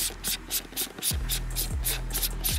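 Rhythmic sliding scrapes of a Lanzi add-on lens being worked onto a camera mount's tracks, close and fairly loud, repeated short rubbing strokes with a low mechanical hum underneath.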